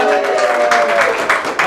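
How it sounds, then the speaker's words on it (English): A round of applause at a Christmas awards event, steady clapping from a gathered crowd filling the moment, fairly loud with slight swells. "the round of applause, please, for Jean and Leona"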